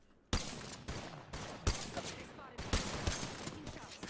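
Mozambique shotguns in Apex Legends fire one after another in a quiet series of sharp, irregular blasts over about four seconds.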